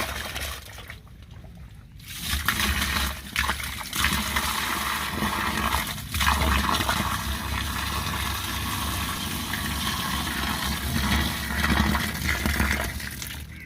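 Water poured into a chemical earthing pit installed for a 30 kV generator, a steady rushing trickle and splash running for most of the stretch after a brief quieter start.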